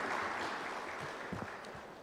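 An audience at an insolvency conference claps in a hall, a soft, steady wash of many hands heard from a distance that fades slightly toward the end.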